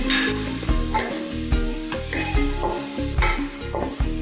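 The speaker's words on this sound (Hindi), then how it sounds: "गरम मसाला डाल के थोड़ा सा भून लेंगे 2 मिनट" Onions and garam masala frying in oil, a loud close sizzle with rapid, rhythmic spatula scraping and clacking against the pan, busy and continuous with no speech.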